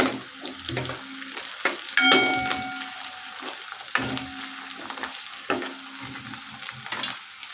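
Ten to fifteen curry leaves drop into reddish frying onions in spicy Puneri misal masala and crackle loudly, with bursts of sizzle and stirring scrapes in an uneven rhythm close by, and no voices.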